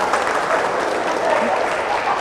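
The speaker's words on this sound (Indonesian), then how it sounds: "Boleh kasih tepuk tangan sekali lagi?" A live audience claps together at an Indonesian stage show, a steady dense wash of applause with no break, loud and close throughout.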